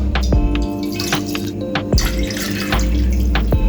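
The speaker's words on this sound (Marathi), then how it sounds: "मी 2 चमचे पाणी घालून घेते आणि त्यामध्ये 2 वाटी आपण दूध घालणार आहोत" Water and milk trickle and drip into a pan, with small splashes and clinks, steady and close.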